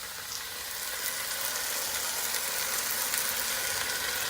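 Bolognese sauce with diced tomatoes simmering in a pan, giving a steady, soft, crackly bubbling and sizzle that holds at an even, moderate level with no voices.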